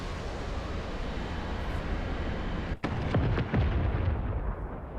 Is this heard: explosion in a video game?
yes